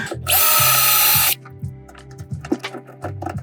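A power drill drives screws into a stair tread with one loud, sustained whirring burst, followed by quieter knocks and handling clatter.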